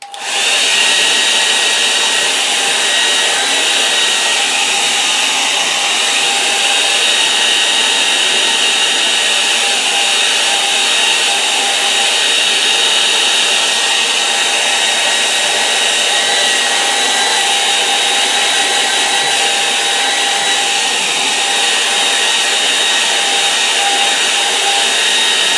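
A hair dryer blowing on a watercolor painting, a loud, steady whooshing roar with a constant whine that runs unbroken for the whole stretch.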